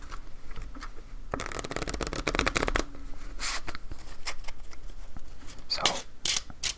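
Playing cards riffle and shuffle in several bursts, a dense crackling flutter followed by lighter taps and slides, close and fairly quiet with no talking.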